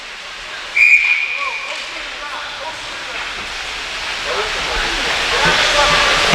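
A sharp referee's whistle cuts through a noisy ice hockey rink during a high school game, one short blast near the start, followed by a rising wash of crowd and arena noise.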